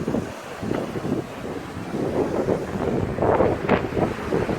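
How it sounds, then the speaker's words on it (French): Seaside at Calpe, with strong wind buffeting the microphone in a constant rumbling roar over the wash of waves, loud and unbroken throughout. "On est à bord de mer de Calpe."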